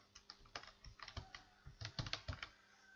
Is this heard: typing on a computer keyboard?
yes